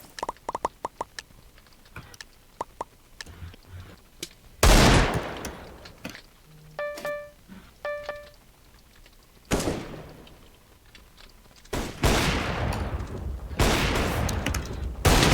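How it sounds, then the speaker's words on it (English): Counter-Strike match gunfire, including an M4A4 rifle: scattered single shots and quick bursts, then several loud, heavy volleys of rapid fire separated by quieter gaps, with a couple of short electronic beeps midway. "Yoshi getting a kill on Chris with a M4A4 headshot"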